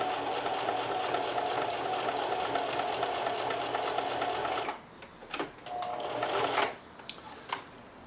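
A sewing machine back-tacks an apron strap, running in a steady, loud, rapid stitching rattle, then stopping and restarting in shorter bursts separated by pauses.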